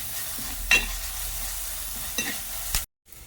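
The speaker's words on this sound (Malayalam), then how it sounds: "ഈ അരപ്പ് ഇതിലേക്ക് ഇട്ട് കൊടുക്കാം." Coconut, chili and turmeric paste goes into a hot pan of frying food, with a few brief stirring scrapes and bursts of sizzle over a steady background hiss before a sudden cutoff.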